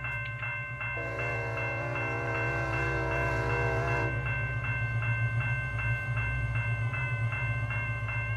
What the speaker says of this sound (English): So we're going to be hear the horn for this thing as well.